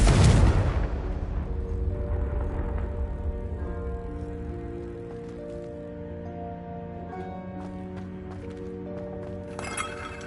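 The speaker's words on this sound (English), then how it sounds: "Confringo!" A Confringo fire spell in Hogwarts Legacy bursts with a loud blast at the start, then fades into a long ringing, shimmering tail over low rumbling ambience.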